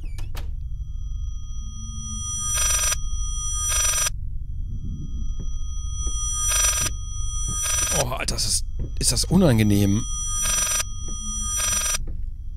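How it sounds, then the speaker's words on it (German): An old telephone in the horror game Layers of Fear rings repeatedly in loud, evenly spaced bursts against a low droning hum, while someone talks and groans in between the rings. "Ist ein Telefon."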